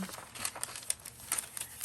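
Graph paper pages in a handmade altered journal crinkle and rustle in soft, irregular bursts as the sheets are turned, close and fairly quiet, with no one speaking.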